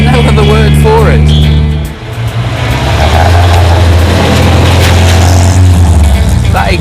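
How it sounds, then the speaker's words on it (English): A classic Frogeye Sprite sports car's engine rumbles with a deep exhaust note, dipping briefly then settling into a steady drone while a person talks over it. "That exhaust note, just such a great sound."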